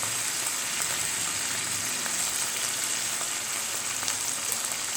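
Mushroom manchurian sizzles steadily in a hot pan as it is mixed, a constant close frying hiss with faint stirring scrapes and no talk.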